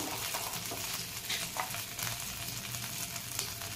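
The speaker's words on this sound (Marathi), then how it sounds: "तळून घेऊया" Spinach and pea kachori filling sizzling in a pan with garlic paste, a soft, steady frying hiss that carries on throughout without talk.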